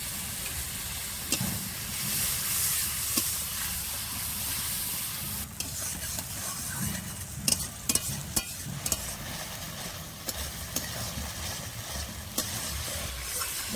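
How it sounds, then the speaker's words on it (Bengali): Ground cumin and dried red chilli paste for kadai fish sautés in a pan with a soft continuous sizzle and hiss, broken by a few spoon scrapes and clinks near the middle. "শুকনো লঙ্কা বাটা, এবার ভালো করে কষে নেব।"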